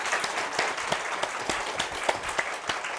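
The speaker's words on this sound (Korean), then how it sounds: "박수 부탁드립니다." A seminar audience at a Seoul parenting talk concert applauds a professor coming to the stage, steady close clapping with distinct individual hand claps standing out, no talk over it.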